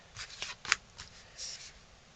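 Tarot cards drawn from a deck during a reading: soft papery slides and flicks, with one sharper snap near the middle, close and quiet with no talk.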